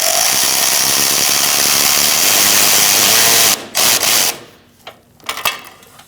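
A power tool drives a screw into a radiator cooler line bracket on a 2016-2019 Chevrolet Cruze 1.4L, running loud and steady for about three and a half seconds before stopping, followed by short bursts and faint clatter.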